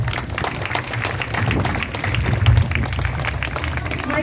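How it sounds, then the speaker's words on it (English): Audience applause at a school event honoring students, teachers and parents: dense, steady clapping throughout, moderately loud and continuous with no talk. "give your parents who have supported you a very big round of applause"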